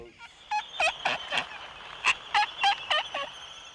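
Seabirds at French Frigate Shoals give a series of loud, nasal, honking calls, about nine bursts in quick irregular succession, close and clear over a quiet background.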